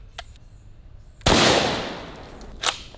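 A shotgun loaded with number 8 bird shot fires at a hand grenade from about 15 yards outdoors. One loud, sharp blast rings out and decays slowly, followed by a faint pop a moment later.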